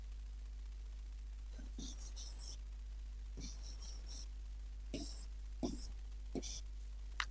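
Marker or pen writing out bracket steps of a BODMAS arithmetic problem on a board, heard as several brief scratchy strokes spaced apart over a steady low hum, close and fairly faint.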